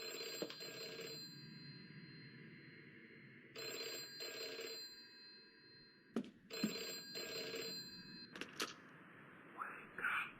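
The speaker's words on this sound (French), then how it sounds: "Dès lors que nous quittons la chambre, une sonnerie de téléphone retentit." Telephone ringing in a flash video game, with repeated bursts of electronic bell ringing separated by short pauses, clear and fairly loud, followed by a few sharp clicks and faint sounds near the end.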